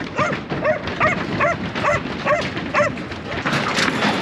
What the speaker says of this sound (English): Speak, Max. Speak.